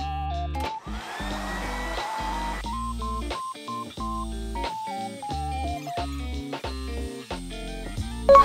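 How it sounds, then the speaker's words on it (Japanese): During a morning routine, a hair dryer blows air while drying hair, heard as a steady rushing whoosh that is partly buried under louder background music. "もう急いで髪を乾かしていきたいと思います。"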